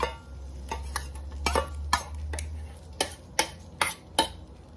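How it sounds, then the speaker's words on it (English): Several sharp clinks of a utensil against a bowl, spaced irregularly over a low steady hum, as vegetables are stirred into akara bean batter close by. "Just gonna add this vegetable to it."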